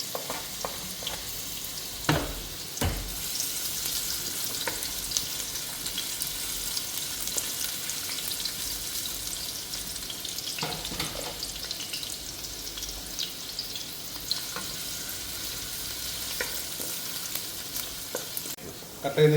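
Ginger, garlic and shallots fry in a pan for a beef roast, a steady close sizzle with occasional scraping stirs and clinks, no talking.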